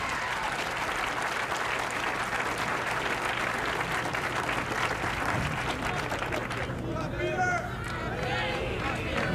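A crowd at a 1982 bowling tournament match between Pete Weber and Pete McCordic cheers and applauds loudly and steadily, the dense clapping easing near the end while voices and shouts carry on.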